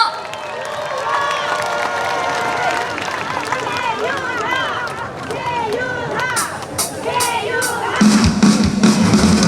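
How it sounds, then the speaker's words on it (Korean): A crowd at an outdoor cultural festival cheers and claps to welcome a singer. The noise is a broad, busy roar with shouts and voices mixed in, and it swells near the end. "뜨뜻 따뜻한 박수로 맞이해 주세요"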